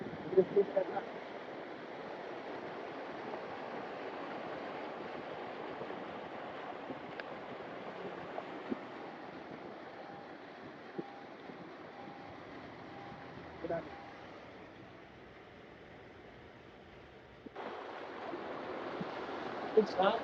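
Loud, steady rush of floodwater over a road in Noida Sector 16B during heavy rain continues throughout, dipping briefly near the end before surging back.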